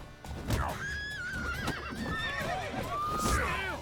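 Horses whinny and neigh repeatedly in high, wavering calls in the video game The Witcher 3, with hooves stamping underneath; fairly close and prominent.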